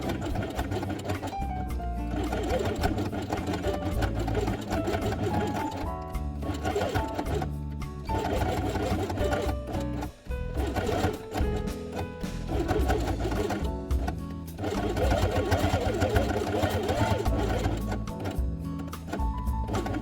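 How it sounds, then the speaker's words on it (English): A sewing machine runs along the edge of a felt piece with white thread, in repeated bursts of fast whirring stitching broken by short pauses, steady and fairly close throughout. "sew along the edge with white thread"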